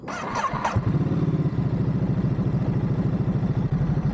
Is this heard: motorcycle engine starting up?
yes